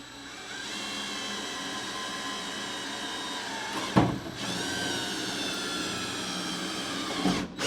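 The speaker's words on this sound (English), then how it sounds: "I'm going to try 1/8 inch bit here" Power drill running with a 1/8 inch bit during a turn signal switch repair on a 1970 Buick GS, a steady high motor whine with two brief breaks where the bit catches or restarts.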